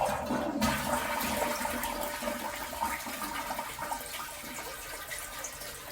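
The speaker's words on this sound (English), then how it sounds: "Now you want to flush the toilet." A toilet flushes with a strong rush of water that holds steady and then slowly tapers as the bowl drains, heard close in a small bathroom during a bidet seat installation.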